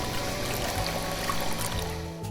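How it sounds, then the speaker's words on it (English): Water flows into a trough in a steady, dense rush of pouring and trickling that stays constant and fairly loud throughout the short stretch, with no voices. "Flowing water fills the trough."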